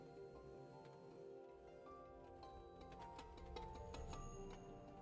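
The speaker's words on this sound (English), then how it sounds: "Oh, and it started raining again." Rain falls steadily outside, a faint constant patter with scattered ticking drops, low and distant beneath a soft musical hum, without any talking.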